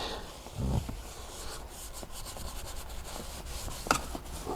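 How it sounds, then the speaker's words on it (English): Brush bristles scrubbing into the seams of a car seat between the bolster and base, a quiet, continuous scratchy rubbing with a few soft bumps, close by and with no talk. "Get the bristles in there. Clean deep down in between the seams, between the bolster and the base of the seat."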